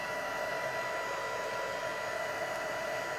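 A hair dryer blows steadily over air dry clay, a loud, constant whooshing hum with no breaks and no voices over it.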